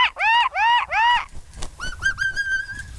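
A bird gives three loud rising whistled calls in a row, then a softer series of short chirps trailing into a sustained whistle, close by.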